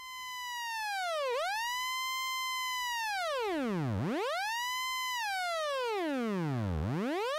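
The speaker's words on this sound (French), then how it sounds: "Une de mes distos préférées, j'en ai déjà souvent parlé, c'est le Gristleiser TG4 de Future Sound System" A bright, buzzy synth tone run through a Future Sound System Gristleiser TG4 distortion sweeps down and up in pitch in repeated swooping dives, like a laser or siren, sustained and fairly faint with no talking.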